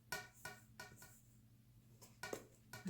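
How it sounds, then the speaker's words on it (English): A spoon stirring biscuit dough with milk and cold butter in a bowl, giving faint, close scraping knocks in short irregular bursts with a quiet pause in the middle. "I'm going to mix it up. I'll use the spoon to use that."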